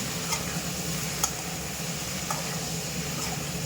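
Mushrooms fry in oil in a pan for a spicy gravy, a close, steady sizzle with occasional soft ticks and scrapes of stirring.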